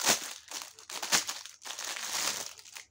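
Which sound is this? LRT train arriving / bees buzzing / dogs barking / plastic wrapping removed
plastic wrapping removed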